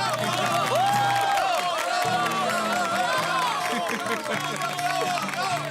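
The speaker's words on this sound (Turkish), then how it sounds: "E hocamıza kocaman bir alkış değil mi?" A noisy crowd at an Aikido tournament cheers and claps for a teacher, with loud voices, shouts and children calling out over continuous applause, dense and close throughout.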